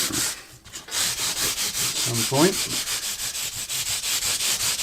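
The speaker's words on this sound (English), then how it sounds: "So this is a really fine sanding block" A fine sanding block rubs back and forth over the frets of a Danelectro 67 guitar in quick, steady strokes, close up, with a brief pause early on and a few spoken words.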